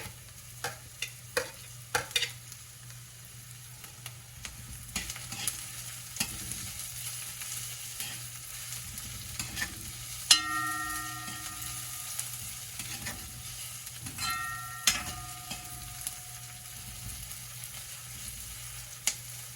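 Garlic frying in a pan for corned beef, with a soft low sizzle under repeated sharp utensil clinks and scrapes against the pan as it is stirred, close and intermittent.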